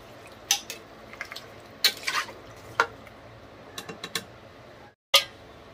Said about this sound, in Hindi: इसको दोबारा से मिक्स कर लेंगे।